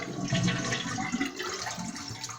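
A toilet being converted to a dual-flush system flushes, its tank water rushing and gurgling down loudly and close for a couple of seconds with no voices.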